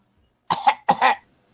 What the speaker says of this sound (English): I was coughing